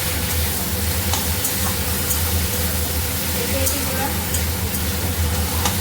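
Taro flower stir-fried in a pan in a Bengali home kitchen makes a constant sizzle, with stirring scrapes and soft hisses close by and low voices in the background.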